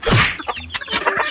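Chickens cluck close by in a quick burst of loud, choppy calls lasting just over a second, with no talking over them.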